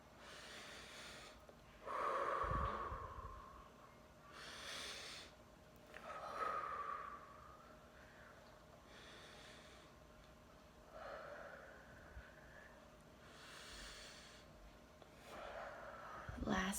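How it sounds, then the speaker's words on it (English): Slow deep breaths in and out, repeated several times with long gaps between them, soft and close, each inhale and exhale gently audible against a quiet room. "So let's do 5 deep breaths together."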